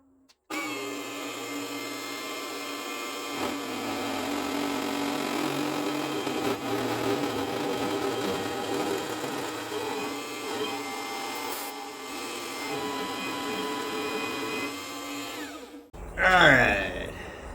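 A power drill bores holes through steel ladder bar brackets for a custom Chevrolet S10, a close, steady whining motor hum with harmonics that runs for about fifteen seconds and ends in a brief louder clatter.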